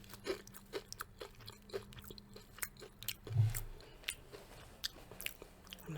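Crunchy sesame sticks being chewed close up, with a steady series of soft crisp bites and munches and one heavier crunch midway, quiet and intimate with no talking.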